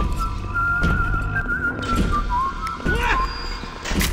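A character in the BioShock video game whistles a thin, wavering tune that runs continuously over a noisy game background with scattered clatter, no speech.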